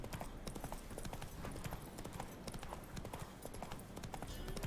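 Horse hooves clip-clop steadily and rapidly in The Witcher 3 as the horse travels at pace, with the busy game soundscape around it; no talking.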